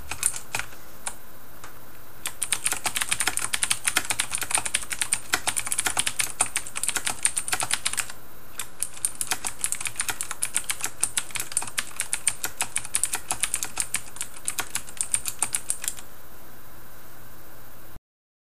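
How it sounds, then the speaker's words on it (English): Rapid, clicky typing on a Das Keyboard 3 Professional mechanical keyboard with Cherry Blue switches, two long close-up bursts of keystrokes separated by a short pause, with no talking. "I will type "the quick brown fox jumps over the lazy old dog" on it twice"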